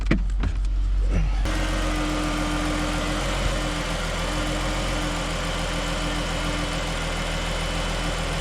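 A 2011 Jeep Cherokee engine idling with a slight miss, a steady low rumble with a faint uneven pulse, heard close after a short burst of handling noise at the start.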